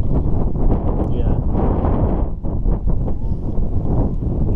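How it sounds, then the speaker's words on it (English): Strong wind blowing over a lake buffets and roars across the microphone continuously, a dense, rumbling gusty noise with no clear voices. "I'd like it to be a little less windy"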